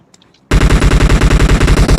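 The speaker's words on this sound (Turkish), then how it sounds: "Hadi sana mermi atıyorum o sırada." Rapid automatic gunfire in a video game, with a steady burst of loud, close shots running after a brief quiet start, no talk over it.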